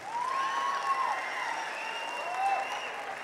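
A large crowd at a film pre-release event claps loudly and steadily throughout, with faint whistles and voices above the applause.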